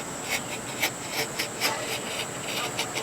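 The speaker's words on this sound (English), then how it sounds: "Now I can go deeper, putting both hands on the knife. Now I'm going to make myself a little valley there." A knife blade scores a small V-groove across a wooden board ahead of a pull-saw crosscut, giving soft, rhythmic rasping strokes roughly every half second, close and fairly quiet, with no talking.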